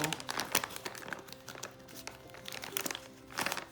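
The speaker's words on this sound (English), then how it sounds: "So I will go ahead and wipe down my folder" Soft, quiet crinkling and rubbing as a baby wipe cleans an embossing folder, irregular scrubbing strokes with a few slightly louder swipes.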